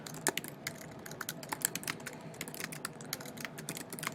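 Quick, irregular keystrokes patter on a computer keyboard while a first blog post is typed, soft and close with no talking over them.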